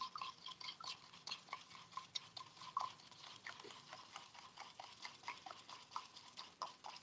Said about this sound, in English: Stir it again.